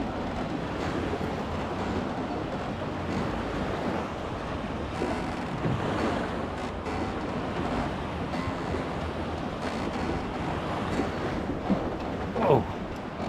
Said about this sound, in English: this is what happens when a massive stink boat goes past.